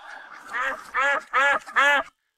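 Four loud, nasal duck quacks in quick succession, each a short harsh burst, close by with no talking.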